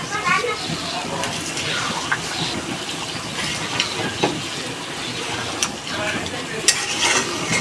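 Chicken and potatoes in a pan sizzle steadily after hot water is added, with scraping stirs and a few clinks of the spoon under a busy hiss, while a person talks over it.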